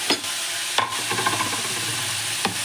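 Potato and cauliflower fry together in a pan with a soft, continuous sizzle, broken by a few brief scraping stirs of a spoon against the pan.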